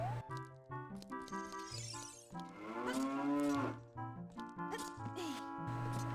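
Cows moo repeatedly in the Zelda: Ocarina of Time video game, drawn-out bellowing calls layered over bright, tuneful game music with chiming notes throughout.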